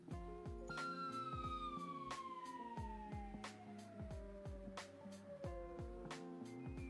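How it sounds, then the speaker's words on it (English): Police siren wailing in the background, a long descending tone sweeping down through several seconds, distant and faint beneath dense rhythmic music or tone pulses, no voices. "Are you going to have police sirens in the background every day now?"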